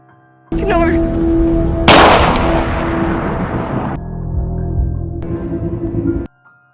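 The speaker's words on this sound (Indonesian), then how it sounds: "Ia mencoba untuk menembak Andy, namun Lauren melindungi Andy dan ia pun tertembak." A gunshot in the film Cargo (2017): a sharp, loud blast that decays into a long rumbling tail over a film soundtrack, with a voice speaking over part of it.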